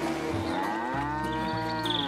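A cartoon cow lets out one long, drawn-out moo, loud and alone, its pitch sliding and wavering.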